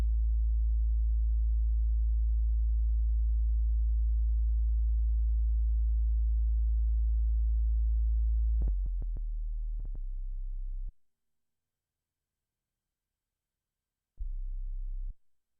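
A Behringer Mini synthesizer holds a steady, very low sub-bass tone for about nine seconds. A few clicks follow, then the tone returns briefly, cuts to silence, and comes back for a final short burst.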